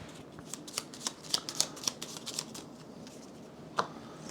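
Board game cards shuffled by hand, with a run of crisp riffling snaps and flicks in quick succession, then a pause and one last sharp card snap, close and fairly quiet.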